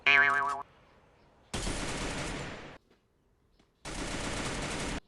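Two long bursts of rapid, loud automatic gunfire in Free Fire separated by a short pause, with a brief tonal game sound at the start.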